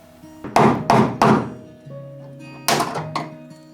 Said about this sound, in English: we are using a wood chisel, specifically because it's long and narrow, gets in those places where a typical cold chisel wouldn't